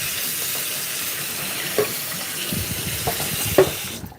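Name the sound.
tap water running while rinsing cauliflower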